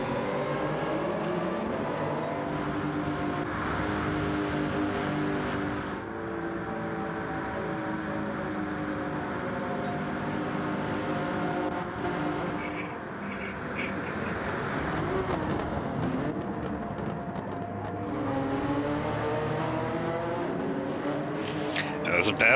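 Subaru BRZ Gr. 3 race cars lapping Daytona in a racing video game, a sustained high engine drone with shifting pitch throughout, heard under continuous commentary.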